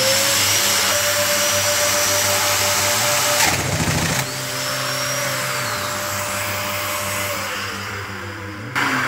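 A Domino joiner mills into beech hardwood while being pushed down too fast, giving a loud steady whine with a rough, strained grinding burst partway through before the motor runs on and spins down at the end.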